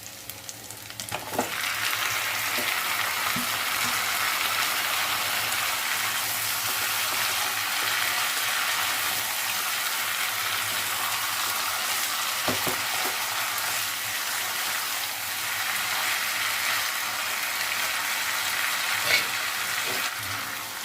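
Chicken marinated in chilli powder, salt and turmeric fries in a hot pan with a loud, steady, close sizzle, broken by a few soft clicks of stirring.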